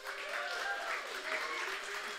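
Live audience at a San Diego Comic-Con 2022 podcast taping applauds steadily for about two seconds, a dense, continuous wash of clapping with a faint crowd murmur and no talking.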